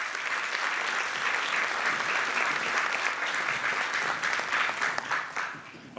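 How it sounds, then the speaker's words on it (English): An audience at a community election forum applauding candidates, a loud, dense, sustained round of clapping that holds steady before tapering off near the end. "I want y'all to clap it up for these people"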